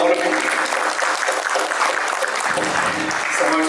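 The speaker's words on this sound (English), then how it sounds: "So let's applaud all of you." An audience at a talk on standardized exams breaks into loud, sustained clapping that stays dense throughout, with a voice briefly audible beneath it.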